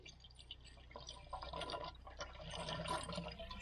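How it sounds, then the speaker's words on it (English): Water pours and gurgles steadily into the radiator of a vintage Suzuki LJ50 jeep, the splashing growing fuller and louder over a few seconds with a low engine-like hum underneath. "we'll see if that radiator holds water first of all"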